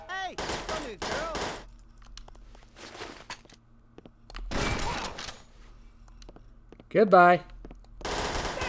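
Gunfire in the video game Perfect Dark Zero: several bursts of rapid automatic shots and loud blasts come in clusters between pauses, close and punchy, with brief voiced game dialogue mixed in.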